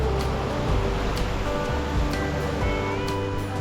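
Water tumbling down a waterfall in the Palakkad countryside, a steady broadband rushing roar that fills the whole clip without pause, close and continuous with no voices over it.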